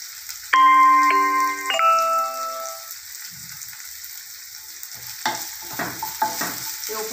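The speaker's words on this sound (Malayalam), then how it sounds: "ഒരു സബോള അരിഞ്ഞതിടുന്നു. അതിനകത്തേക്ക് ഉപ്പ് ചേർത്ത് കൊടുക്കുന്നു." Chopped onion with salt cooks in a pan for a peanut vegetable curry, opening with a bright tonal chime or beep, then a soft sizzle and a cluster of quick spatula scrapes and clicks near the end.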